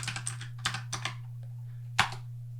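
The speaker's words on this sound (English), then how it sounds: "I'm going to use the capital G keystroke to go to the very end" Keys clack on a computer keyboard in short clustered strokes, a quick run of taps followed by a sparse few and one firmer press, close by over a steady low electrical hum.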